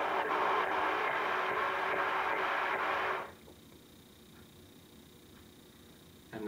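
Breathy buzzing through a trombone mouthpiece alone, played as a steady stream of short tongued D-articulated pulses for about three seconds, then cutting off into quiet background.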